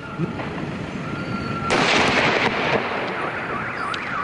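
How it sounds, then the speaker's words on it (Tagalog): A Goodbye Philippines firecracker blasts apart a mannequin in a sharp, loud burst that rings out briefly before fading into a lingering rumble. "Pagsabog namang ng Goodbye Philippines"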